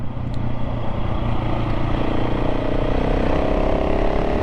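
A KTM 690 SMC R single-cylinder motorcycle engine chugs at low speed, a steady close rumble that holds at an even level for a few seconds with no one talking.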